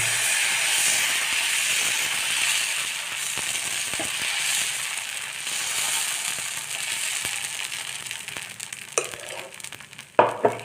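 Pumpkin dosa batter sizzles on a hot pan: a steady, close, hissing fry that fades slightly over time, followed near the end by a few sharp clatters of a utensil. No one speaks.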